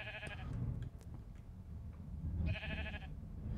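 Minecraft sheep bleating on a wool farm, two short wavering bleats a couple of seconds apart over a low rumbling background.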